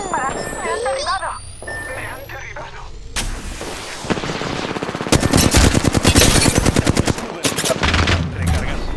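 Video game gunfire in Apex Legends, with loud rapid machine-gun bursts and heavy shots layered over game effects, building to a dense rattling barrage in the second half.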